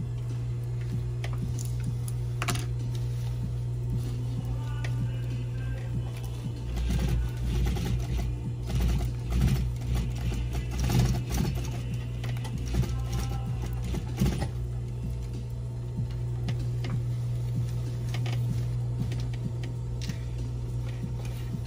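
A sewing machine stitching a mitt and cord runs in a steady mechanical patter that swells into a denser, louder burst midway before easing back, heard close over a constant low hum with no talking.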